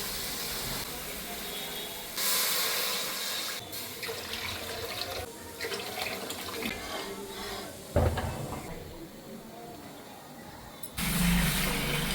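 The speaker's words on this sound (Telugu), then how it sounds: "ఈ చెంబుతోని 3 చెంబుల నీళ్ళు పోసుకోవాలి" Water runs in bursts from a tap, splashing into a vessel with a few stops and starts, faint kitchen clatter in between.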